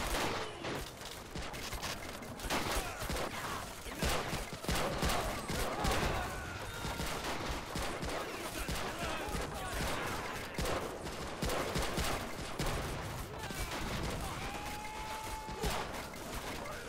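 Dense gunfire and machine-gun bursts fill a beach assault in the Rising Sun mod, a Pacific war video game, with continuous overlapping shots, near and far, sustained throughout with no pause.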